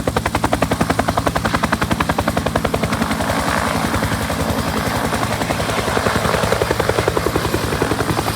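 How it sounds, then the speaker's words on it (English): Huey helicopter, Rolls-Royce powered, with rotor blades chopping the air in a loud, steady rapid thumping pulse that continues throughout, engine whine underneath and no talking. "those blades chopping up the air"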